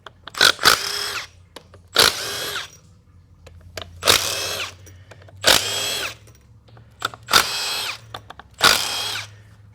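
A power tool spins out the pump bolts on a 4L60e transmission from an '05 Chevy Tahoe 4WD. It runs in six close, loud bursts, each a short whirring rattle, with quiet pauses between.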